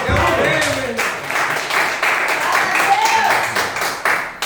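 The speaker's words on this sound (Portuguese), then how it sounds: "Aplauda o Senhor nessa manhã." A church congregation claps together during a Sunday morning service, a dense run of hand claps with rhythmic pulses, loud and near, while a voice speaks and sings over it.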